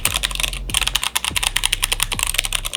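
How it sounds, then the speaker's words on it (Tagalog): Rapid typing on a Keychron C2 mechanical keyboard fitted with brown switches, a steady run of close, crisp keystroke clacks with a brief pause early on, then continuing at an even pace alone. "So ito yung sound pag pinipress nyo yung keys nya."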